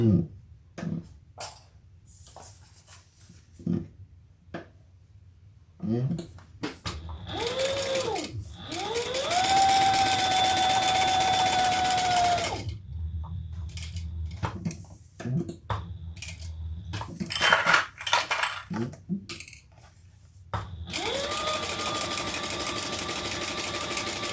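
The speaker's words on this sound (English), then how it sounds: "I'm going to top stitch on either side." Sewing machine top stitching on either side of an Ellana handbag: bursts of close, steady mechanical whirring and rapid needle clatter, alternating with pauses, short handling clicks and repositioning of the fabric.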